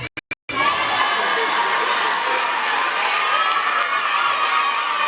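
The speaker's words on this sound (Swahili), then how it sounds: "Hii shangwe unayopewa ina heshima yake." A big crowd at a CHADEMA party rally in Nkasi, gathered to welcome new members, breaks into loud, sustained cheering and shouting after a few short sharp bursts of sound.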